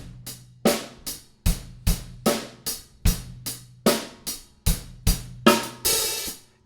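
Drum kit playing a steady practice groove, with sharp regular hits of kick, snare and cymbals in an even repeating rhythm, close and clear with no talking.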